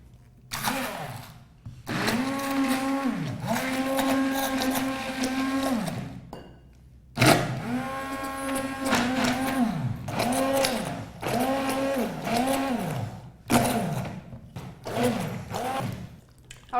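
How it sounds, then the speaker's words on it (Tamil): A hand blender whirs in several bursts while blending a curry in a kitchen, stopping and restarting between each, with a steady motor hum rising and falling as it runs. "இப்போ நான் ஹேண்ட் பிளெண்டரில் கடைஞ்சிடுறேன்."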